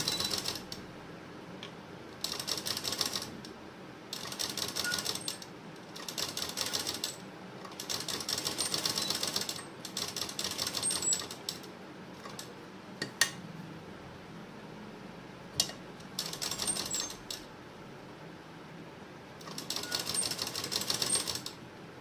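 A sewing machine stitches a seam in a princess-cut deep-neck blouse, running in short steady bursts of rapid mechanical whirring separated by quiet pauses, with a few faint clicks between runs.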